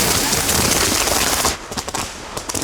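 Gunpowder fireworks in an art display burst in a dense, crackling barrage that fills the air loudly, then thins into scattered sharp pops and crackles.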